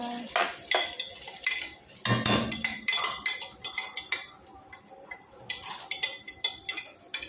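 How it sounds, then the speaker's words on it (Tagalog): Tuna sautéing with garlic and onion in a pan, a utensil stirring and scraping with repeated clinks against the metal over a steady sizzle. "So, ngayon, kasi ang tuna, gigisa natin sa bawang sibuyas"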